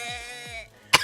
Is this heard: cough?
yes